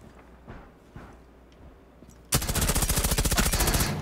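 Rapid automatic gunfire in Rainbow Six Siege, a loud sustained burst of evenly spaced shots that breaks in suddenly after a stretch of quiet background with a few faint ticks and clicks.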